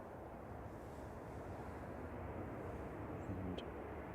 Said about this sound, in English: It's Ryanair from Copenhagen just landed.